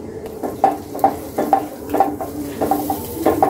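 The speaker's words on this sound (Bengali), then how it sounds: "নেড়েচেড়ে মশলাগুলো এবার কষিয়ে নিচ্ছি।" Spices with a little water are stirred in a pan, a spoon scraping and knocking the metal in a steady rhythm of strokes over a soft sizzle.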